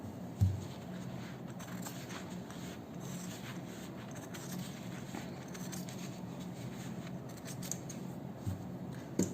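Fabric scissors snip off the extra cloth around a small sewn doll dress, giving soft, repeated cutting and rustling sounds close by, with no talk.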